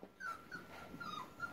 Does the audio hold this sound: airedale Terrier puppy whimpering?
yes